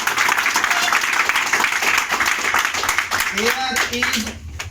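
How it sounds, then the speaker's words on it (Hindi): A class of students gives loud, energetic applause, a thick wash of clapping that thins out near the end as a voice begins speaking over the last claps. "जोरदार ताली देंगे आप लोग।"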